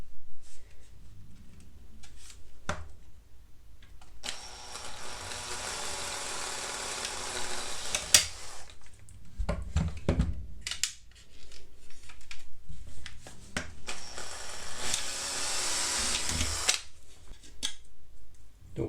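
Drill with a 3 mm bit boring into a part of a Bruder Cat telehandler conversion kit, heard as two close, sustained whining bursts separated by short clicks and handling noises, with no talk.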